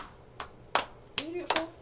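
Hand clapping in a counting game: four sharp, separate claps spaced roughly evenly, close and clear, with a child's brief vocal sound between the later claps.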